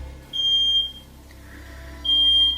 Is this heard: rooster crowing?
no